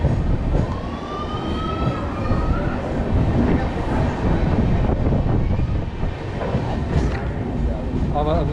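Kashi Express 15018 stands at Lasalgaon, a small village station, with a steady rumble and station bustle throughout, voices talking over it and brief whistling tones drifting in.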